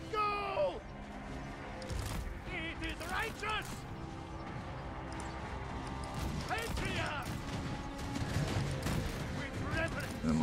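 Video game battle against AI attackers with a mammoth, giant and Ice Guard unit, sporadic gunfire and impact bursts scattered throughout, moderately loud amid other game effects, with a voice talking over the action.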